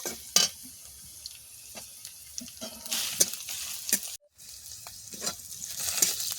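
Vegetables and green chilies fry lightly in a pan for a Bengali village-style dish, with a soft steady sizzle broken by stirring scrapes and clinks, close by with no talking.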